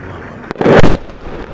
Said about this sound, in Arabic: قصف بالطيران الحربي الروسي على مدينة اللطام ليبريف حما.